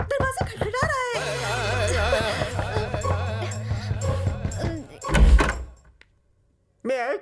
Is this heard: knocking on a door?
yes